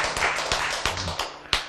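An audience clapping during a church sermon, a short scatter of irregular sharp claps, fairly close, lasting under two seconds.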